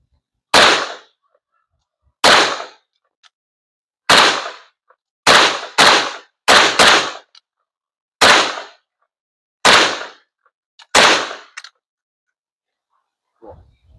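Sharp single gunshots at an outdoor shooting range, about nine reports spaced one to two seconds apart with a quick double shot midway, loud and close with short decays and no talking.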